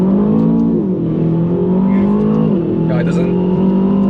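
Aston Martin DBX 707 engine in Sports Plus mode hums and revs steadily in a Kuala Lumpur traffic jam, a deep continuous drone with slight pitch swells, heard from inside the cabin.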